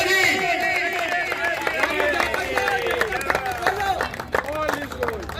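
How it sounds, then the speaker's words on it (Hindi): A crowd applauds at a cricket final's prize ceremony as the man of the match is honored, sustained brisk clapping with scattered voices and chatter mixed in. "अच्छी बैटिंग में तालियां जी"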